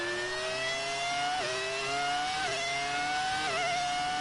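High-pitched classic Formula 1 engines from the F1 2019 racing game scream continuously at close range, with sharp gear shifts roughly every second and the pitch climbing between shifts, with no talk.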